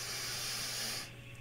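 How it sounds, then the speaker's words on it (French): A deep breath taken during a guided breathing exercise comes as a broad, airy hiss close to the microphone, lasting about a second before easing off. "Une respiration."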